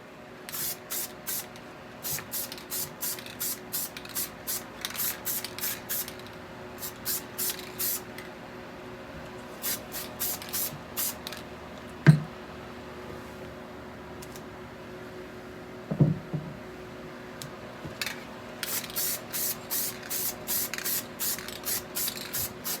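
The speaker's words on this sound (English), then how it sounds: "Time to hit it with some base coat." Base coat paint sprays onto taped-up Ford F150 tail lights in short, repeated hissing bursts from an aerosol can, steady rhythmic passes with quiet gaps and a couple of light knocks from handling the can.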